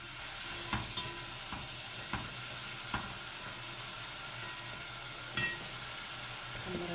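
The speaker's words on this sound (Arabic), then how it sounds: "لازم احمر البصله كده عشان تخلي الرز لونه احمر" Onions salted and browned in a pan for sayadieh rice give a steady close sizzle, with occasional soft knocks and scrapes as they are stirred.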